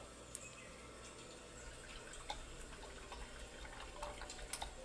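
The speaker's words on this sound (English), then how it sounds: "Let's go ahead and rinse out our brush." Quiet, steady trickling and swishing water as a paint brush is rinsed, with a few faint drips and taps against a container.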